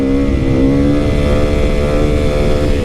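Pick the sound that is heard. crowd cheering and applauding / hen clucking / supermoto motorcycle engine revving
supermoto motorcycle engine revving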